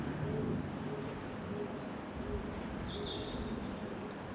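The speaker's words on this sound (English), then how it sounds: "Listen to the birds." Countryside birds call softly in the distance, with a few repeated low coos and faint chirps over a steady outdoor hiss.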